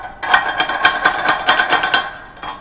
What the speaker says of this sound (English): Grab our chipping hammer and our brush.